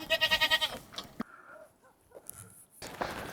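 Black goats on a clifftop near a mountain village bleat loudly in a wavering, pulsing call up close, followed by quieter rustling and scattered footsteps, then another bleat begins.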